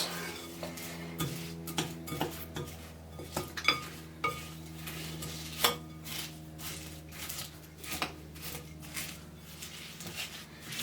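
A spoon stirring a chocolate mixture in a bowl, giving repeated close clinks and scrapes in an uneven rhythm with a low hum underneath and no talking.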